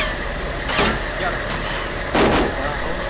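A vehicle engine running in the military video game ArmA 2: a steady, low idling rumble throughout, with two brief louder bursts over it and voices talking.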